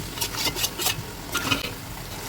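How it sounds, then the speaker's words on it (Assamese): Fried raw banana and potatoes are stir-fried with spices in a pan, heard as a close run of quick scraping and tossing strokes in bursts, with a light sizzle underneath. "ভাজি লোৱাৰ পিছত এতিয়া আৰু ফ্ৰাই কৰি থোৱা কাচকলখিনি আৰু আলুখিনি ইয়াতে দি দিলোঁ"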